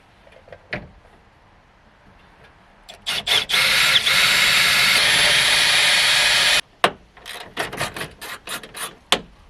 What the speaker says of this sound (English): then you're able to drill the rivets out